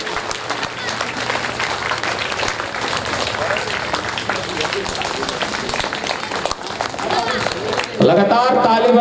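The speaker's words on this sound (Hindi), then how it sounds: "लगातार ताली बजते रहना चाहिए" An audience at a Shrimad Bhagavat Katha religious gathering claps continuously in a dense, rapid patter, mixed with a voice over amplified sound, growing louder near the end.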